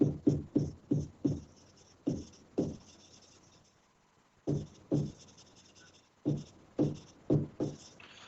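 A teacher writing on a board during a class 12 mathematics lesson makes quick, scratchy strokes in bursts, with a short quiet gap midway. The strokes are close and moderately loud, and nobody speaks.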